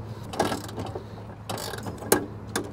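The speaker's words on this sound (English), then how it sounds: "we're gonna just ratchet these down until we hear the click on the torque wrench" A torque wrench ratchets down bolts on an electrical main panel, giving a few quiet, separate clicking bursts spaced about a second apart, close by with no talking.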